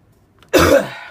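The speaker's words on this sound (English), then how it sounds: "coughing fit" One short, harsh cough bursts out close and loud after a moment of near silence, then trails off quickly.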